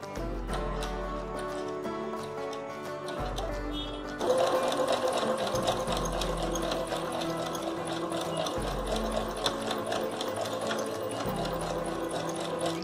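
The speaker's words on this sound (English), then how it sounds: "So we are stitching all 3 pieces together" A sewing machine stitches pieces of a dupatta together in rapid, rattling runs, pausing briefly between bursts before starting again, close and steady with no voices.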